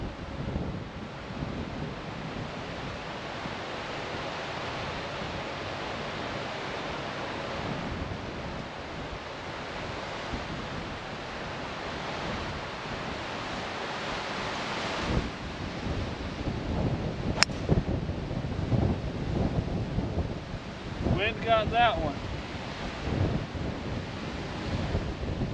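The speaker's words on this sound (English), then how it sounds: "we got wind dead in our face" Wind blows across a golf course at Marsh Landing Country Club, a constant loud roar buffeting the microphone, gusting stronger in the latter half, with no talk.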